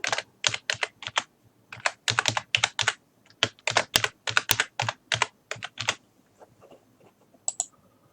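A folder name is typed on a computer keyboard, close and steady clicking keystrokes in quick clusters with brief pauses, tapering to a few scattered taps at the end.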